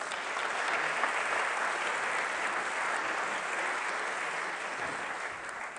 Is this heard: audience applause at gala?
yes